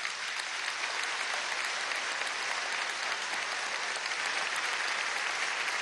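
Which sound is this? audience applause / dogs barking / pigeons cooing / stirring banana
audience applause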